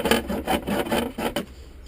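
A metal file rasping the burr off a hacksawn pipe end, about five quick, close, rhythmic back-and-forth strokes that then stop, alone without speech.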